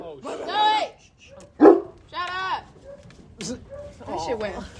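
Dogs barking at each other across a fence in a yard, with several loud, close barks and yips in separate bursts and a short whimper, while people talk nearby.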